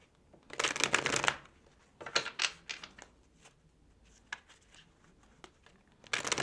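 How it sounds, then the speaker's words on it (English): Oracle tarot cards from a Psychic Tarot Oracle deck shuffled by hand in short, crisp riffling bursts separated by quieter pauses and scattered single card flicks, recorded close and alone. "I can't shuffle like the cool tarot people shuffle. This is how I shuffle."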